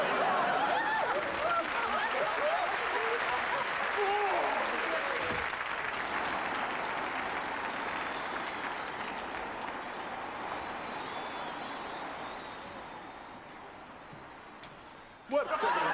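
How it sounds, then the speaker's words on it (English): Loud, sustained applause from a large crowd, clapping steadily and fading slightly over time before a sudden burst near the end. "Give yourselves a round of applause"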